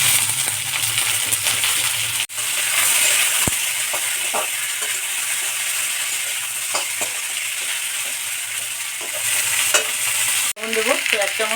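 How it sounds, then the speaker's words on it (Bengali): Cut potatoes drop into spice paste frying in a pan and get stirred, giving a loud steady sizzle with scattered scraping and clinking, close up; there are two brief dropouts and no voices. "মশলাটা ভেজে নিয়েছি, তো এর মধ্যে কেটে রাখা আলু দিয়ে দেবো।"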